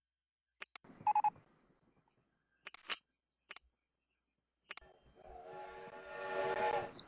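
A train in the RollerCoaster Tycoon park-building game pulls in with several short, bright whistle blasts, then a rising rumble of rolling cars toward the end.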